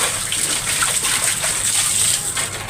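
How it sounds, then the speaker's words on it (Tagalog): Water gushes and splashes steadily into a plastic basin set out for young chickens on a hot day, a continuous close pour with no voices. "Naglagay tayo dito ng tubig."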